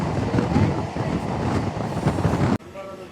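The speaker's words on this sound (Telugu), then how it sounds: "ఇప్పుడిప్పుడే స్టేషన్ దాటింది ట్రైన్." A DEMU passenger train running just after leaving Hindupur station, heard from on board as a loud continuous rumble with rattling wheel noise, cutting abruptly to quieter sound near the end.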